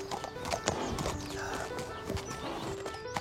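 Horse hooves clip-clop at a steady walking pace, close and clear, with an occasional whinny and light background murmur.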